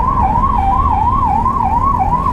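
Ambulance siren wails loudly and close by, sweeping up and down in a steady repeating cycle amid heavy traffic near Kalupur railway station in Ahmedabad.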